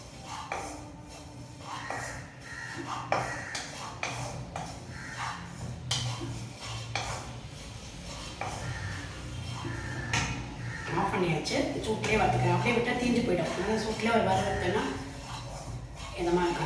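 Grated coconut being dry-roasted and stirred in a pan for Diwali somas filling, with repeated scraping and clinking of a utensil against metal, steady and close, while someone talks over it.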